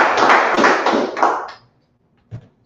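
An audience claps at a Marcus Garvey Day 2023 gathering, a loud, close burst of hand claps lasting about a second and a half before stopping abruptly, followed by one isolated thump.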